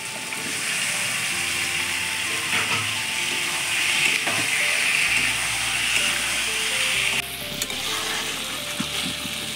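Meat fries in oil with ginger, garlic, green chilli, onion and whole garam masala, giving a loud, continuous sizzle and hiss with occasional stirring scrapes, with no one speaking.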